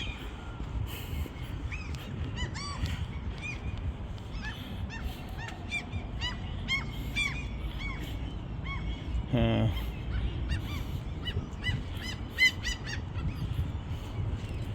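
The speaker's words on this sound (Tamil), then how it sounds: "குருவியை பார்த்தீங்கன்னா குருவி கத்தி கொண்டு நிற்கிது" Shrill bird calls chirp repeatedly over a steady rumble of background noise, with a short harsh honking burst near the middle.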